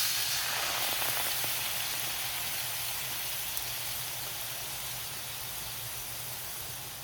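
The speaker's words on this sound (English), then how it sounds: "Now it's time to add the white wine together with some salt and pepper." Shrimp frying in a pan as white wine is poured in, giving a steady, loud hiss and sizzle that fades slowly over several seconds.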